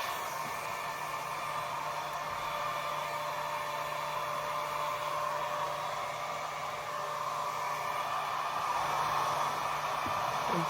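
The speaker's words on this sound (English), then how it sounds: "I'm just gonna keep blow drying" A handheld blow dryer rough-dries thick curly hair with a continuous, close, loud whooshing whine that holds steady throughout, with no talking.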